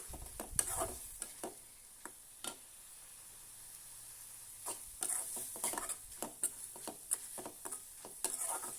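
A dish being stirred and reduced in a pan: a faint, low bubbling sizzle with irregular spoon scrapes and taps, busier toward the end.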